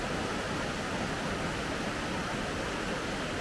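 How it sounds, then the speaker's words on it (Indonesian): A river flows steadily near a glamping site by the Cipamingkis waterfall, a continuous broadband rush of water that holds an even level throughout with no voices. "Ini suara aliran sungai."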